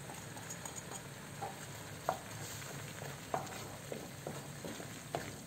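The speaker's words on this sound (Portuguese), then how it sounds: "Tá fervendo o molho já." Coconut sauce with Bahian seasoning simmering and bubbling in a pot, a steady low sizzle with scattered soft pops and clicks, close and alone without talk.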